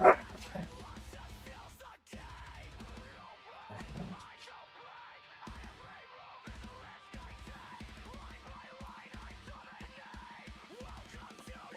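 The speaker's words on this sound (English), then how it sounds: "my dogs are going crazy" Dogs barking and yipping in an indoor setting, a busy run of short, overlapping yelps and whines repeated throughout, fairly faint and slightly distant.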